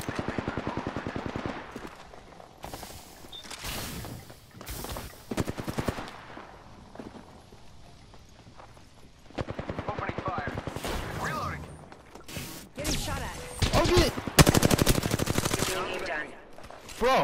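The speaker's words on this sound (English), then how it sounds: "Bro, someone shot at me with a charge rifle." Gunfire in a multiplayer shooter, including charge rifle shots, comes in loud bursts with quieter stretches between them, and a player's voice talks over parts of it.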